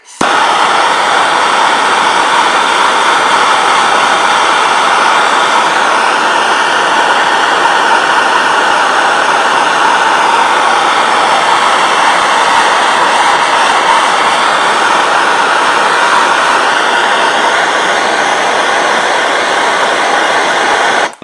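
A torch roars in a steady, loud broadband rush for about twenty seconds, heating a stuck nut or bolt until it glows red.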